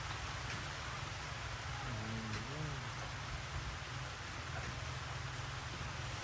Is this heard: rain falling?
yes